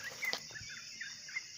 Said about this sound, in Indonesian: Ada suara burung, bermacam model suara burung di sini.